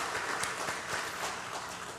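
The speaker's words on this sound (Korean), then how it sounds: "우리 천국 백성끼리 박수 한번 하겠습니다" A church congregation claps together during a sermon, a short burst of soft, fairly distant clapping with no voices over it.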